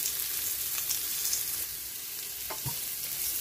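Carrots sautéing with garlic and onion in a cooking pot, a steady close sizzle with soft scraping stir strokes near the end, no talking.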